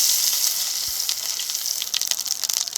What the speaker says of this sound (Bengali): এই তেলে দিয়ে দিচ্ছি গোটা জিরে দিয়েছি একটু তেজপাতা